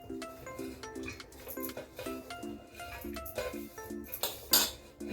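A spoon clinks and scrapes against a bowl as fresh turmeric pieces, mango, ginger and green chilli are mixed for pickle, a steady run of repeated metallic taps and scrapes, close and fairly loud.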